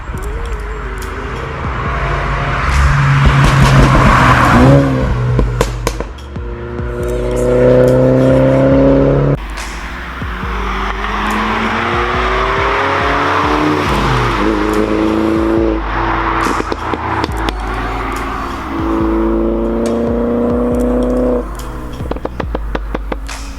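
A Mini Cooper S JCW with a 211 hp pack revs and accelerates hard through several gears, its exhaust loud and close with rising engine sweeps and crackles over about twenty seconds.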